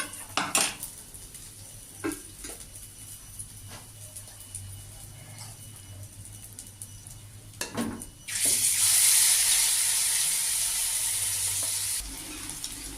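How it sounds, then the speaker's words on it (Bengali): Soft banana flower fritters are lifted from a pan of hot oil with scattered metal clinks and scrapes, then a loud, steady sizzling hiss rises and holds near the end. "বড়াগুলো আমার হয়ে গেছে এবার আমি সব উঠিয়ে নিচ্ছি"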